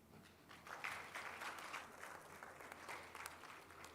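An audience at an environmental sustainability summit claps to welcome a speaker, a sustained wash of many hands in a large room, moderately distant and steady throughout.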